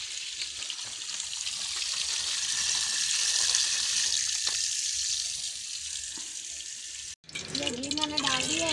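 Food rinsed under a running tap in a village kitchen, a steady gushing and splashing stream for several seconds that cuts off abruptly, followed by a voice talking nearby.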